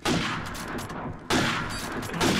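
Two sharp sniper rifle shots ring out in a competitive 1v1 first-person shooter match, each a loud crack with a trailing echo, about a second apart.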